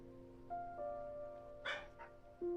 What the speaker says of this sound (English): Dog is barking now.